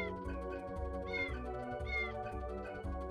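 A cat meows twice over steady video game music, each call rising and falling, close and clear above the busy backing track.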